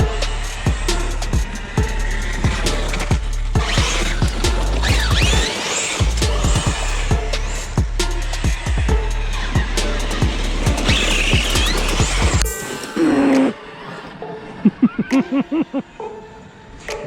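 An Arrma Fireteam RC truck drives in bursts, its electric motor whirring with tires scrabbling and clattering on the surface, close and loud, before it stops and quieter handling noises follow.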